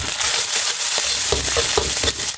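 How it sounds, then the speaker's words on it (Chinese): Crab roe and minced ginger fry in crab oil in a hot wok, a loud continuous sizzle broken by scraping and stirring strokes throughout. "锅烧热哈，我们下一勺蟹油，先下姜末，然后倒入蟹黄，尽量把蟹黄倒散一些哈"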